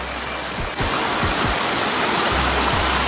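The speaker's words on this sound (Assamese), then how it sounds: "এইটো নদী এখন দলং" Floodwater of a swollen river rushes past a bridge with a loud, continuous roar and a few low thumps mixed in, heard close and alone without talk.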